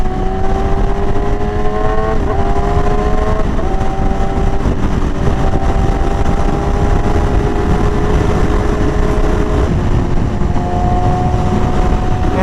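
A Yamaha R6 or R7 motorcycle engine runs at a loud, steady drone close by, with the exhaust pitch rising and dipping briefly a few times, and no voices.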